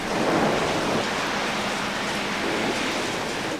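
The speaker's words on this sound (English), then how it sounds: "It's raining hard." Heavy rain falling hard and steady, a loud dense wash of noise with a low rumble beneath it throughout and no voices.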